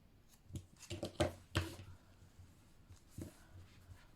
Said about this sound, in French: Je coupe le fil à ras